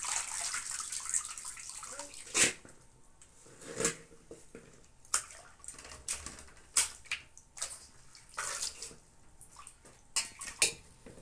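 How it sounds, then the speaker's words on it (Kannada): Leafy greens from a farm field being washed in tap water, with gentle sloshing and sharper intermittent splashes and drips recurring every second or two at close range. "ಮನೆಲ್ಲ ಬಿಟ್ಕೊಂಡಿರ್ತಕ್ಕ ನೀರಲ್ಲಿ ಒಂದೆರಡು ಮೂರು ಸಲ ತೊಳ್ಕೋಬೇಕು"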